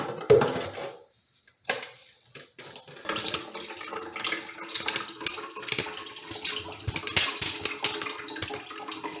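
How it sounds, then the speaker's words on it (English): Water pouring from a disconnected bidet sprayer supply line under a sink, a close splashing gush with clattering handling noises, briefly interrupted before running on continuously. "I still have water coming out,"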